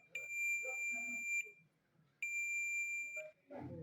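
A multimeter in continuity mode beeps while testing the self-starter armature of a Suzuki GS motorcycle: two long, steady, shrill tones, each over a second, with faint handling noise between them.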